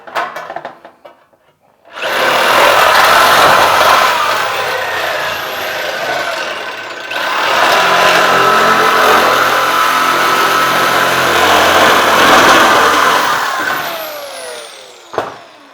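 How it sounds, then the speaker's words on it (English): A power saw rips through a long steel roofing sheet in two loud, sustained cuts with a brief pause between them, a harsh grinding whine that stops abruptly near the end. "it rips through the metal like butter"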